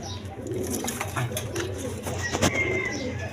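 Pigeons in a coop give soft, low, rolling coos at close range, with faint background voices and light rustling.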